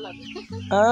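A chicken clucks close by, a few short throaty clucks followed by a louder, drawn-out squawk at the end, clear and prominent in a brief burst.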